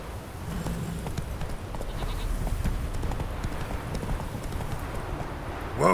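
Hooves of Roach, the Witcher 3 horse, drum out a fast, even clip-clop at close range for several seconds over a noisy outdoor game ambience.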